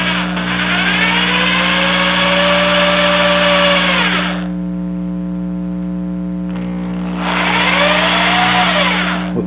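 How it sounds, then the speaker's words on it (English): A power drill whines steadily while boring into a handmade Fat Shad muskie lure body, two long loud runs with a pitch that sags as it bites, separated by a quieter idle pause, no talking. "Let the drill bit do the work."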